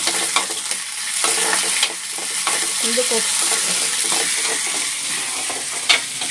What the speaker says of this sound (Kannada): ಇವಾಗ ಸ್ಟವ್ ಹಚ್ಚಿ ಇದು ಫ್ರೈ ಮಾಡ್ತೀನಿ